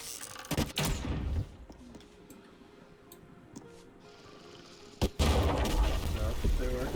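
Gunfire in a video game comes in loud bursts: a cluster of sharp shots near the start, a quieter stretch with faint ticking, then a single crack and a dense, sustained volley to the end.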